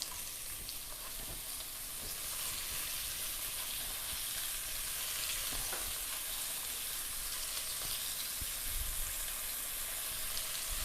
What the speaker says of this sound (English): Right, so my onions are going in.